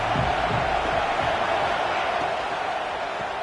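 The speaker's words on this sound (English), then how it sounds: "This crowd ready to make its presence known." A football stadium crowd gives a broad, steady roar of cheering, loud and continuous without a break.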